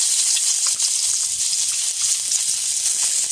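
Steady loud sizzling of garlic or aromatics being sautéed in a hot pan as the start of adobong kangkong (river spinach adobo), a continuous crackling hiss with occasional stir scrapes and no talking.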